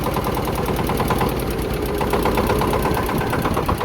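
A Kentavr 240V 24 hp motor tractor engine runs steadily up close, a loud single-cylinder chugging with fast, even knocking pulses and mechanical rattle throughout, no voices.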